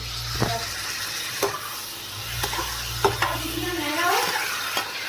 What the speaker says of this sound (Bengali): আমি রান্না করছি